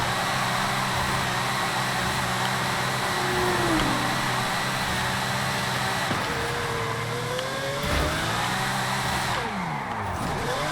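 Pagani Zonda Cinque Roadster engine in a racing video game while drifting, a loud continuous engine drone with rising and falling pitch sweeps as the revs shift, steady throughout with no talking.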